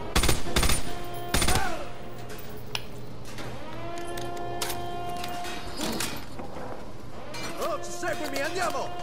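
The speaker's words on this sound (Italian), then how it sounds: "Allora qua ci sparano e non riusciamo a capire da che parte ci sparano." Call of Duty: Modern Warfare 2 gunfire crackles in sharp, rapid bursts early on, then scattered shots follow under someone speaking Italian and game music.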